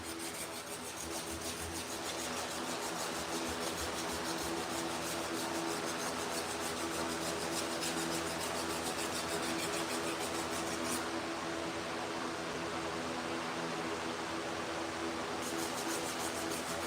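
Body filler being sanded with 180 grit sandpaper on a sanding block, a steady, continuous rasping scrape that runs unbroken and close for the whole stretch, with no talking.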